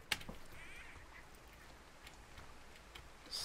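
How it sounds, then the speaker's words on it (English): An angry duck quacking in the video game Firewatch, a faint brief call against quiet ambient background. "Is that a fucking angry duck?"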